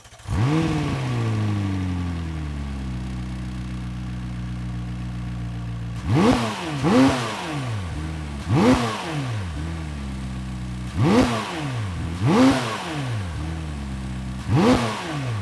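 A McLaren 600LT Spider's 3.8 litre twin turbo engine starts with a revving swell, settles into a steady rumbling idle, then fires a series of sharp throttle blips in quick pairs, loud and close.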